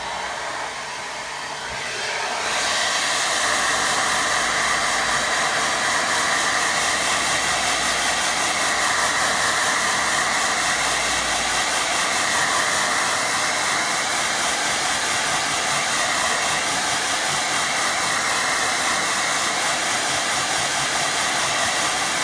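A hair dryer blows steadily on a watercolour painting, a loud continuous whooshing hiss that starts after a short pause and holds for about twenty seconds with no talking.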